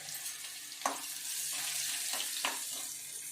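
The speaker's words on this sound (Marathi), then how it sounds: "मोहरी आणि हिंग चांगलं तडतडलं आहे" Mustard seeds and asafoetida crackle in hot oil for a tempering: a steady, close sizzle punctuated by a few sharp pops.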